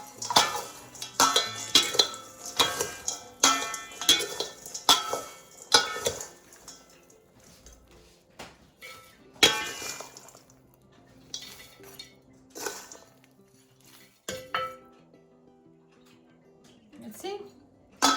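Potting mix scooped into a terracotta pot while repotting a Monstera Thai Constellation, a series of close clinks, scrapes and rustles in irregular bursts, with a person talking between them.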